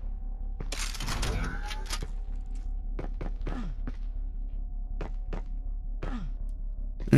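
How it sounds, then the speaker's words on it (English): Bare fists pound rocks in a modded Doom game: a heavy crunching burst of impacts early on, then a string of separate dull thuds spaced a second or so apart over a steady game drone. "Beat up these rocks and we'll get through"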